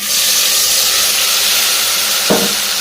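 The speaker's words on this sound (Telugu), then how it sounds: "బాగా వేడైంది కదండి మసాలా వేసుకుందాం మసాలా ఏమేంటి అవి కొబ్బరి అల్లం చున్నులపాయ పేస్ట్ వేసేసుకుందాం" A paste of coconut, ginger and shallots sizzles loudly in hot oil for a beef curry. The hiss is intense and continuous, with a brief stirring knock near the end and no voices.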